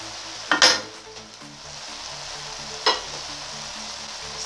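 Stewed cabbage and sausages being stirred in a pan with a spoon, with two scraping stirs that clink against the pan over a steady background sizzle, and no talking.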